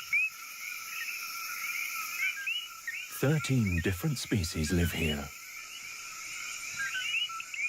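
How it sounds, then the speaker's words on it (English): Dense chorus of coqui frogs calling at night in a Caribbean rainforest after rain, steady chirping and whistling notes all around, with a voice speaking over them midway. "It has rained, and male frogs are calling everywhere."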